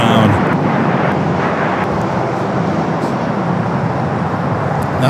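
An airliner takes off at Los Angeles International Airport bound for Santa Rosa, California, a loud, steady broadband engine roar that holds throughout without letup.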